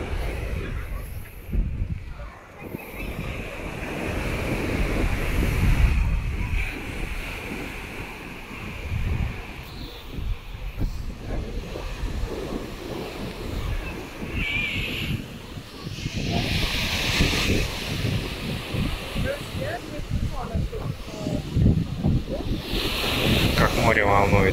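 Waves wash continuously onto a stony Baltic Sea shore under strong gusty wind that buffets the microphone, a loud, dense roar of surf with people's voices faintly mixed in.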